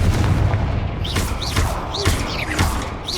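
Confringo explosive spell blasts in a Harry Potter video game, a run of booming impacts with whooshing magical effects, several bursts over about three seconds against a dense, loud game soundscape.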